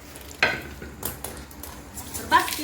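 Peanut pods roasting on an iron griddle give a faint dry crackle under a few distinct scrapes and knocks as they are turned, with a brief murmur of talk.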